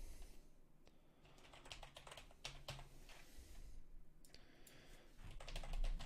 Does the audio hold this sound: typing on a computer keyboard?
yes